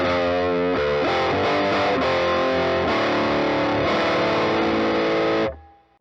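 A heavily distorted electric guitar through a Death By Audio Fuzz War pedal plays thick, fuzzy chords that sustain loudly, then cut off and fade at the end.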